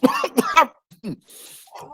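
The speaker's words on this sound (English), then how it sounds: "I start coughing on my food, bro." A few harsh, close coughs come in quick succession, followed by a brief throat sound and a breathy exhale.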